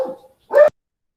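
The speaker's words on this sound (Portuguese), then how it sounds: "Cada vez que tiver muito latido aqui, eu vou parar um pouco o áudio." A dog gives two short, loud, close barks, one right after the other, then falls silent.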